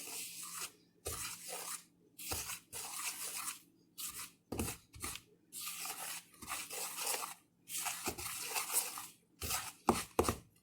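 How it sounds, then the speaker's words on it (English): Blueberry muffin batter being stirred in a bowl, a rhythmic series of scraping, rubbing strokes in bursts with short pauses, close and fairly quiet, with no talking. "And now we gotta stir."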